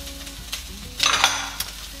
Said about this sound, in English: So I'm now just going to add in our celery